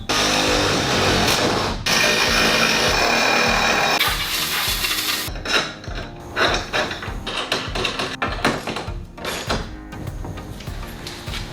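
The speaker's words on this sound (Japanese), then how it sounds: "穴を開けてボルトを止めてみたいと思います" Power drill boring bolt holes in a metal reinforcing frame, a loud continuous grinding whir for about five seconds, then broken into shorter close bursts and knocks with no talking.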